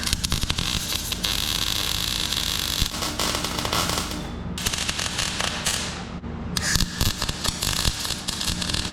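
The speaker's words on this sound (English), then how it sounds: "we'll watch me attempt to do some welding" Amateur welding on a farm job for new cow tracks, giving a loud, continuous crackling hiss that runs nearly the whole time, with short breaks where the arc stops and restarts.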